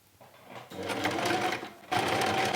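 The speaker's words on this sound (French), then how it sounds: "je peux continuer et je n'ai pas besoin de refaire de point d'arrêt puisque je n'ai pas coupé mon fil depuis tout à l'heure" A domestic sewing machine stitches fabric wipes in steady running bursts, starting after a short pause and picking up again after a brief stop, close and alone without talk.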